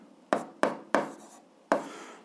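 A pen writes on paper while algebra is worked out: four short, distinct scratchy strokes, each sharp at the start and then fading, with brief pauses between them and no talking.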